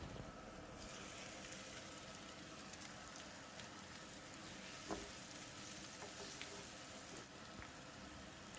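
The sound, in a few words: chopped tomatoes sizzling with fried onions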